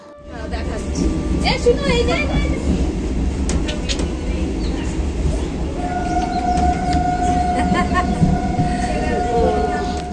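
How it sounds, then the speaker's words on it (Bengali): A train stands at a station before departing, its low steady rumble filling the scene with a sustained tonal whine joining partway through, while people's voices murmur in the background. "ওখানে দশ মিনিট মতো ট্রেনটা দাঁড়াবে তারপর আবার ট্রেন ছেড়ে দেবে"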